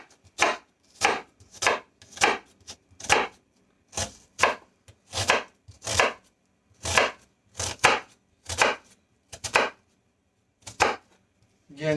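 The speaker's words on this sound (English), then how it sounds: "Go ahead and cut your onion." A knife chops through an onion on a cutting board, crisp close thuds in a steady, unhurried rhythm of about a dozen cuts with brief pauses between them.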